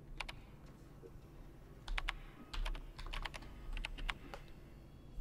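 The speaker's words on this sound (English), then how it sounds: "What happens if I start typing the code?" Keys on a computer keyboard tapped in short bursts as a code is entered, sharp clicks in uneven clusters over a low steady hum, with no talking.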